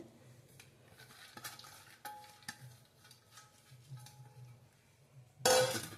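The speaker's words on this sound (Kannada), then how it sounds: "ಮೊಳಕೆ ಕಾಳು ಹಾಕ್ಕೊತಾ ಇದ್ದೀನಿ" Sprouted gram tipped into a pot of boiling sambar with potato and brinjal, a low steady bubbling bed under soft stirring and clinks, ending with a loud rattling pour of grains into the pot.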